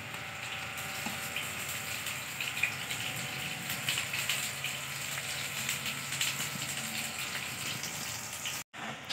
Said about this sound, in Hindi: अब डाल रहे हैं हम इसमें पानी।